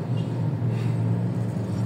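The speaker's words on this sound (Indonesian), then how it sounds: "Dan untuk kendaraan tuh rame, udah mulai rame" Steady low rumble of busy morning road traffic around seven o'clock on the alternative route from Setiabudi toward the Pasteur toll gate, a continuous dense engine drone with no distinct passing vehicles.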